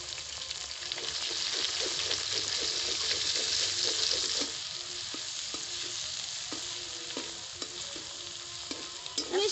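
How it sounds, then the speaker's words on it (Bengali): Vegetables and egg being stirred in a sizzling frying pan, steady hiss of frying under repeated scraping and tapping of a utensil against the pan, close and continuous. "এর সঙ্গে সবজি আমি বেশ ভালো করে নেড়ে চেড়ে মিশিয়ে দিচ্ছি।"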